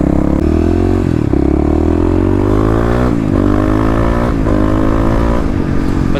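A fuel-injected Kawasaki KLX351 big bore engine runs loud and close, rising and falling through repeated revs with a rough, throbbing exhaust note.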